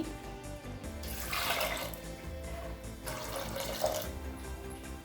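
Water runs steadily into a pressure cooker for several seconds, a broad rushing splash that rises and swells near the middle and end.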